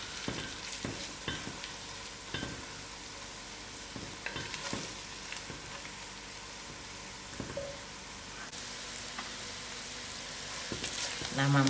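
Masala spices sizzling and frying in a pan as the base for a hot, dry venison curry, a steady close crackle with occasional stirring scrapes and clinks.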